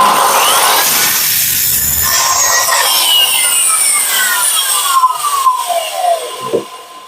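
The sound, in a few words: hand saw sawing wood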